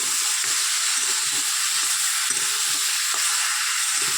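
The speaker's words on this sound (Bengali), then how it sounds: "এবার দেখুন আমি ঘষা টমাটোটা দিয়ে দিলাম" Grated tomato sizzles in a hot frying pan while a bitter gourd dish cooks, giving a dense, even hiss with light stirring scrapes underneath, close and steady, with no voices.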